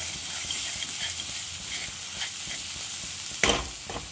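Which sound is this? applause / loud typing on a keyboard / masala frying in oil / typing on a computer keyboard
masala frying in oil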